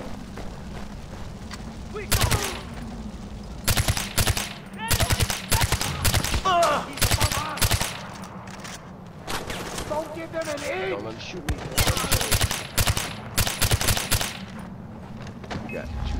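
Gunfire in the video game Far Cry 4 sounds in repeated loud bursts of rapid shots over several seconds, with a player talking intermittently between and over the volleys.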